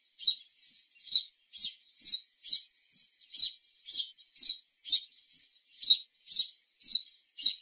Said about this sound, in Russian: Воробей говорит чик-чирик